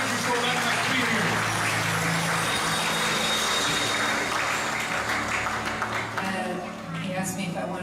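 A church congregation claps and cheers at an evening Bible college conference service, a dense, sustained burst of applause that fills the room and slowly thins toward the end, with voices mixed in.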